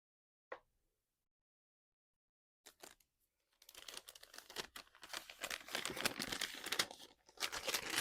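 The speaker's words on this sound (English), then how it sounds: "Sorry for all the crinkling." Crinkling plastic packaging around embroidery floss: a single crisp rustle, a pause, then a few brief crackles building into sustained, close, busy crinkling and handling noise.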